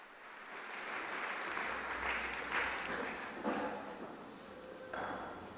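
Moderately quiet applause from a graduation ceremony audience congratulating graduates, a soft spread of clapping with a few sharp clinking or tapping sounds and a low hum underneath.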